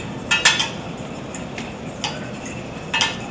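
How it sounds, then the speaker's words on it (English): One egg being scrambled in a pot for a quick dish, a utensil clinking against the pot in a few brisk, close taps and scrapes spread across the moment, with no talking. "So I'll just scramble one egg in the pot."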